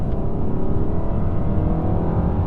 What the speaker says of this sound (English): So you can hear that turbo kicking in.